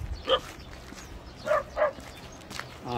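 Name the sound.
dogs barking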